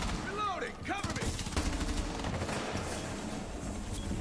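Rapid gunfire in the Rainbow Six Siege video game, a burst of sharp repeated shots close up, with game sounds and faint voices mixed underneath.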